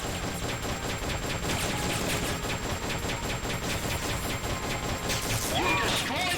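Rapid machine gun fire from Metal Gear Solid: Peace Walker rattles on continuously and loudly, a dense unbroken burst of shots that fills the whole stretch.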